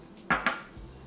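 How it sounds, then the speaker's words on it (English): Garlic cloves drop into a Ninja blender jar, giving two quick, hard clicks close by in a quiet kitchen. "To our handy dandy ninja blender, we will add the garlic cloves,"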